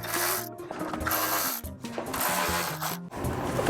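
Bolts are removed from a BMW chassis brace under the car, a busy, close ratcheting and rattling with short pauses between bursts.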